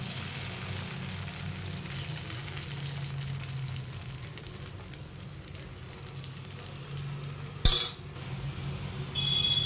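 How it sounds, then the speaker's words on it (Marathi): Rice batter frying in a hot pan for a breakfast dish, a steady close sizzle that carries on throughout, with one sharp clink of metal or glass near the end. "आणि आपण हे मिक्स केलेलं आता मिश्रण सगळं मिक्स करून घ्यायचं आणि पॅन मध्ये टाकायचं।"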